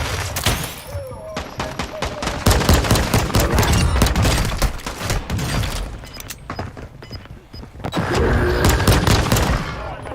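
Rapid bursts of machine gun and rifle fire crackle in a Warzone 2023 battle royale match, dense volleys with short pauses, loud and close, punctuated by booms and impacts.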